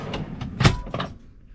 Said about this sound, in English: Got a working drawer again.